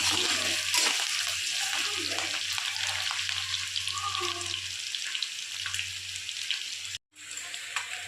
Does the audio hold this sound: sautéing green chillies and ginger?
yes